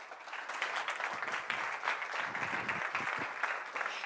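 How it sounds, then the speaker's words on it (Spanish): An audience applauds a keynote speaker at a business conference, with continuous clapping from a crowded hall that holds steady at a moderate level throughout. "Un aplauso para Natasha Kucic."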